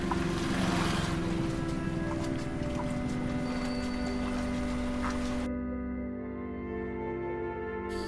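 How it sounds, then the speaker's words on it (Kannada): Floodwater pours over a small dam during a monsoon flood near Kundapura, Udupi, making a steady, loud, close broadband rush with a low droning hum underneath. The roar thins out in its last few seconds. "ಅದ್ರ ಮೇಲ್ಗಡೆಯಿಂದನೇ ನೀರು ಪಾಸ್ ಆಗ್ತದೆ"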